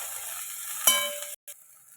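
Garlic and spring onion sizzling in a hot pan, a short soft frying hiss with a metallic clink of a spoon against the pan, then quiet.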